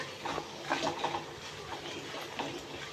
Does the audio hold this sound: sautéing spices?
yes